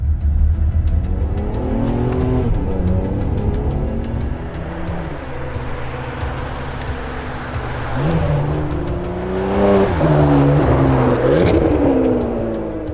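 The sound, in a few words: Ferrari 599 GTB Fiorano engine driving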